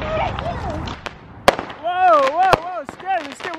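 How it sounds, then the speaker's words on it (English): Fourth of July fireworks and firecrackers burst close by in several sharp, loud pops and cracks at irregular intervals, while excited voices shout and talk over and between the blasts. "We're going to do some fireworks."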